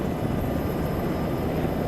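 Helicopter in the military video game Arma 3, a loud, steady rotor and engine roar heard from inside the cabin, continuous with no talk.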